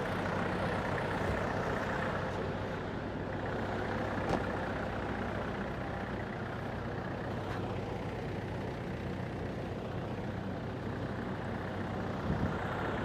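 Kubota L46 compact tractor idles with its rotary tiller engaged on a dealer lot, a steady close diesel drone and mechanical churn holding even throughout with no talk.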